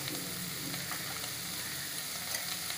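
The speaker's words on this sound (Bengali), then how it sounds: "এটা খুব ভালো করে সাতলাতে হবে, একদম টমেটো পেঁয়াজ সব নরম হয়ে যাবে।" Tomatoes and onions sauté with spices in a pan for butter chicken, giving a steady, dense sizzle and crackle that runs evenly throughout with no talking.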